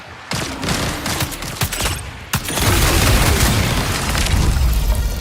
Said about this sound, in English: How do I fire the missile barrage?